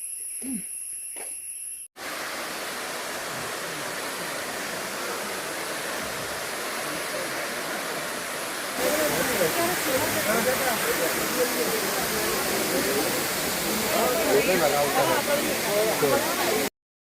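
Steady broadband roar of a waterfall on a Coorg trip, continuous and fairly loud, growing fuller and closer partway through after a brief opening with a click and tone.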